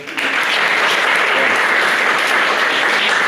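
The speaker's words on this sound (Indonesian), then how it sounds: "aplaus buat beliau" Applause from a lecture audience for a guest who shared knowledge in a Pancasila education class, a steady, loud wash of clapping that fills the whole stretch without breaks.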